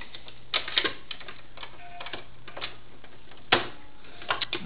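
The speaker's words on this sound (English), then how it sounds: "And I'm putting on my zipper foot." A presser foot swapped for a zipper foot on a sewing machine, giving a few sharp plastic and metal clicks and taps spread irregularly over a quiet room, with one louder snap near the end.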